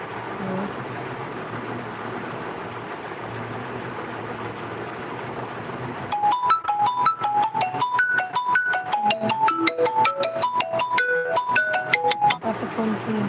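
A phone ringtone for an incoming call from papa plays a bright, repeating chiming melody for about six seconds, clear and close, following a stretch of quiet room murmur.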